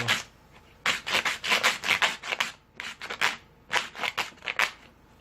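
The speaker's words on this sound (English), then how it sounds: "so we have to sandpaper our sole" Sandpaper rubs back and forth across the sole of a handmade palm slipper in quick, raspy strokes, coming in bursts with short pauses, close and moderately loud without talk.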